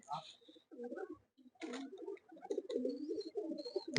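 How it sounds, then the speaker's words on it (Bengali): Pigeons coo in a loft in bursts with short gaps, close and fairly clear, while someone talks intermittently over the birds. "পায়রাগুলো ঢুকাচ্ছে দেখুন।"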